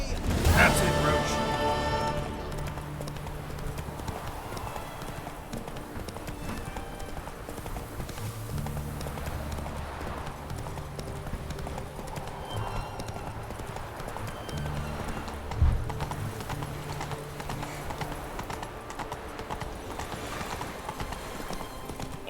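Hooves of Roach, the horse in The Witcher 3: Wild Hunt, clopping at a steady rhythmic pace across the ground, heard alongside game music and ambience, with a brief voice near the start.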